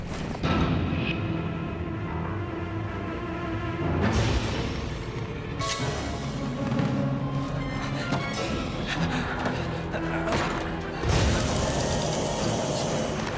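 A machine mechanism from a supernatural TV drama grinds and clanks for a sustained stretch, with heavy rattling, booming bursts and dense metallic churning, loud and continuous and without speech.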